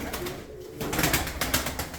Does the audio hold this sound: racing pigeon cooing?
yes